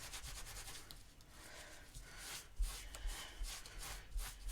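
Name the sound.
microfiber cloth buffing ink off embossed card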